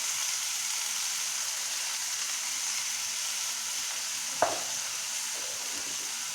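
Golachi bhaji, wild greens, frying in a pan with a soft steady sizzle, and a single brief scrape of stirring breaking through partway in.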